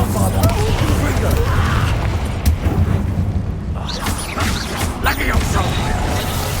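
Spell blasts from the explosion spells Bombarda and Confringo in the wizarding game Hogwarts Legacy: booming crashes and crackling bursts over a constant rumble, with a voice shouting spell names throughout.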